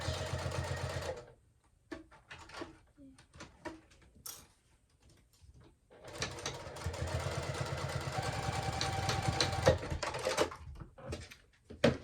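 A sewing machine stitches a fabric clutch bag, its motor whirring in a rapid mechanical chatter: one short burst, a pause filled with small handling clicks, then a longer steady run of stitching, close and loud.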